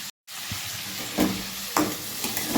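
Garlic frying in oil in a home kitchen pan while being stirred, with a steady sizzle throughout, a short gap near the start and a few louder scraping stirs.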